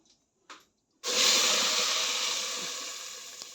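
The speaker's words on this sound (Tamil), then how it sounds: "மசாலாவை நம்ம அப்படியே ஊற்ற போகிறோம்" Ground masala paste hits hot oil for a village-style crab masala gravy, bursting into a loud, sudden sizzle after a couple of brief taps, then hissing steadily and slowly easing off.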